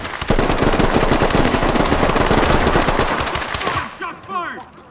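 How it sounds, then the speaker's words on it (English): Rapid automatic gunfire from a tactical police shooter, a sustained loud burst of close shots lasting several seconds before cutting off, followed by a brief quieter tail with faint voices. "Shot fired!"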